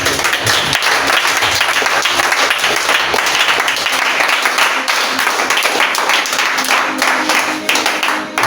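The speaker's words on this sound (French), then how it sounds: "Est-ce que quelqu'un peut acclamer Jésus?" A church congregation bursts into loud, sustained applause and cheering for Jesus, dense clapping filling the whole stretch with a crowd roar beneath.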